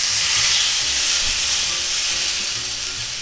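Chuck steak sears in a smoking-hot cast iron skillet, a loud, steady broadband sizzle with some low crackle that holds through the whole stretch, no voices.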